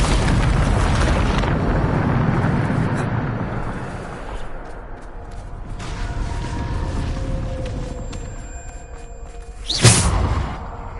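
A Bombarda spell in Hogwarts Legacy goes off with a rumbling boom and a long, rolling debris crumble, fading before a sharp whooshing burst near the end.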